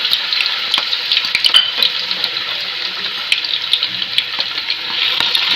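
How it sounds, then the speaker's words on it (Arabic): Cubed meat hits hot butter and oil in a cooking pot, setting off a loud, steady, close sizzle with crackling pops throughout. "وبعد ما سخنت هننزل فيه اللحمه بتاعتنا اللي احنا مقطعينها مكعبات"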